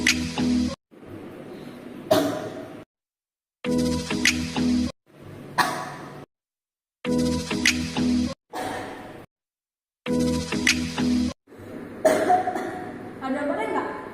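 Five separate bursts of coughing, each a different style of cough acted out for comedy, come close and fairly loud with short silent gaps between them, and a voice mixes in with some bursts.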